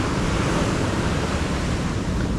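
Big ocean waves surging around a boat near the Puerto Princesa Underground River in Palawan, a loud, continuous roaring wash with wind buffeting the microphone and no voices.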